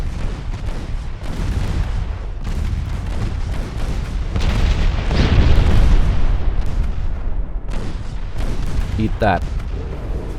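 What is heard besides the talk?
torpedo hits exploding on a warship in a naval video game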